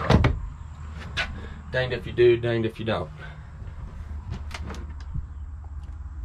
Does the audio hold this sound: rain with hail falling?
no